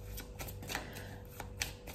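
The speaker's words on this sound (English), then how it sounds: "keep breathing like that as I shuffle the deck" A deck of tarot cards shuffled by hand, quiet irregular riffling clicks and soft taps, close and faint.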